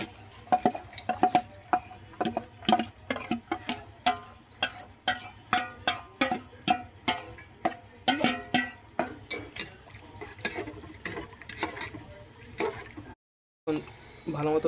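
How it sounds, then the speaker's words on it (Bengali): A wooden spoon stirs khichuri made with pumpkin and five kinds of lentils in a pot, producing rhythmic scraping strokes about twice a second that repeat steadily, then pause briefly near the end. "আমি নাড়াচাড়ার জন্য কাঠের চামিচ ইউজ করতেছি"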